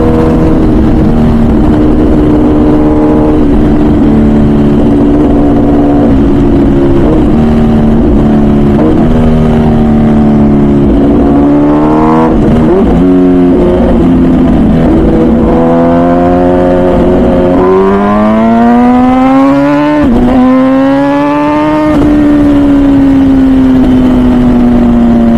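A 215 hp MV Agusta Brutale 1000 RR naked superbike lapping the Nurburgring, its engine a loud, continuous howl with pitch climbing through revs, dropping at gear changes and rising again throughout.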